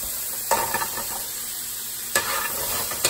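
Tater tots sizzle and fry steadily in a pan for a breakfast burrito, with a few louder scraping stirs of a utensil punctuating the continuous hiss.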